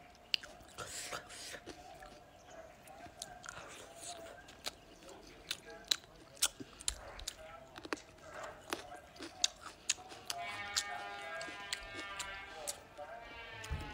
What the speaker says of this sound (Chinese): 今天吃一个家乡面，酥肉、菜苔，还有一个泡椒啊